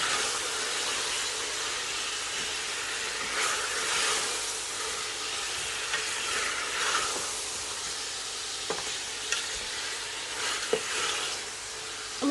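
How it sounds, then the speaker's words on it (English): Tomatoes sizzle loudly in a karahi pan with lamb as they are gently stirred, giving a steady close hiss broken by occasional scrapes and taps of the utensil against the pan. "we're just going to gently stir this"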